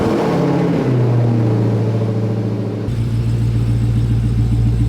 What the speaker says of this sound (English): this car sounds like a fucking jet when you start it